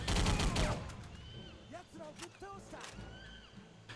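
Type 100 submachine gun firing in a video game, a dense burst of shots up front that fades into scattered sporadic gunfire and combat sounds, with voices talking over it.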